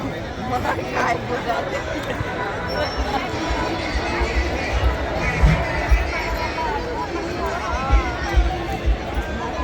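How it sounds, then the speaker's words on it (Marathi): A large crowd gathered at Chaitya Bhoomi in Dadar on Mahaparinirvan Din, a dense continuous babble of many voices close around, with a nearer person talking over it. "हे बघा मित्रांनो खूप अशी गर्दी आहे"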